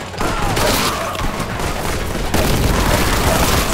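Crack grenade detonating in Warhammer 40K Boltgun, a loud, dense burst of booming blasts and rapid gunfire-like cracks that fills the whole moment, with a brief dip before a renewed surge.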